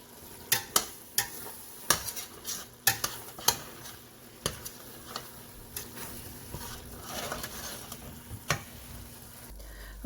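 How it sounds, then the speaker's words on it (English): Ground taco meat seasoned with herbs and spices cooks in a pan, giving a soft steady sizzle, with scattered sharp clicks and taps of a utensil stirring against the pan throughout. "now I have the meat simmering"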